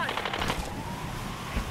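Rapid bursts of machine gun fire from a mounted gun in Tomb Raider, close and rattling in short fast volleys amid game noise.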